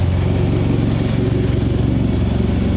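A 1972 Toyota Celica engine fitted with Mikuni 40PHH carburetors idles steadily and close by, a loud continuous low rumble with an even pulsing beat and no voices.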